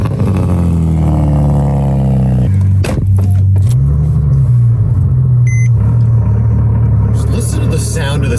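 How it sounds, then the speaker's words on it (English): A Porsche 997.2 GT3 RS idles close by with a deep, steady, rough low rumble. Brief clattering and handling noises are heard over it. "Just listen to the sound of this idle."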